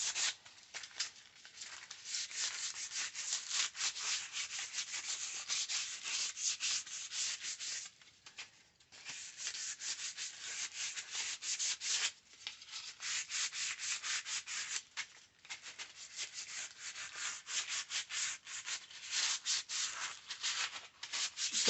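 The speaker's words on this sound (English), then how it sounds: "I gotta sand this one down." Hand sanding on the headlight trim of a 1973 Jeep Commando, a rapid rhythmic scratchy rubbing that runs close and continuous with a few brief pauses, with no talking.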